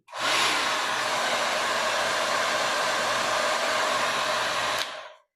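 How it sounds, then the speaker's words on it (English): An iTeraCare device runs its fan on the low fan, low heat setting, giving a steady, close, hair-dryer-like whoosh of airflow that holds evenly for about five seconds before cutting off abruptly, with no talking. "the second one is low fan, low heat."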